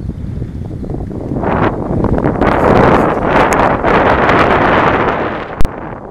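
Strong wind buffets the microphone in a continuous broadband roar, gusting louder midway, with a brief sharp click near the end, on a solo carp fishing trip.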